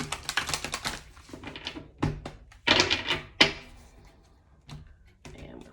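Tarot cards are shuffled by hand, loud close bursts of riffling and flapping card noise in several quick rounds, broken by short quiet gaps and soft taps.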